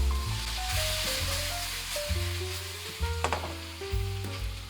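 Eggplant stir-fried with Pixian doubanjiang in a wok, a close steady sizzle with spatula tosses and scrapes, plus a tonal hum beneath it.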